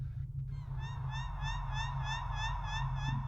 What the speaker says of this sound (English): The bird.